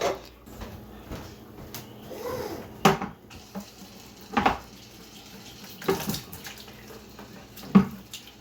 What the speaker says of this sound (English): I'm going to go ahead and start almost filling up my 5-gallon bucket of water.